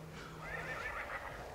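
A phone ringtone of a horse neighing, a single clear whinny lasting under two seconds, played indoors at moderate volume.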